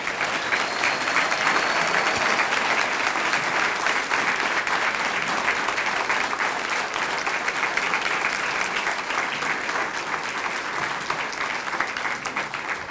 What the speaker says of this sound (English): Students, please stand for a round of applause.